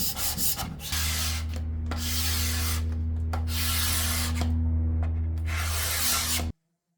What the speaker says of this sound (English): this is going to accelerate a bit the sanding process.